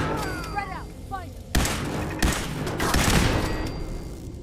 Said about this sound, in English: And I don't know how these guys got a turret in here.